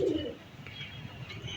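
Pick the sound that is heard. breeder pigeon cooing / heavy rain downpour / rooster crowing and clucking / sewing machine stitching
breeder pigeon cooing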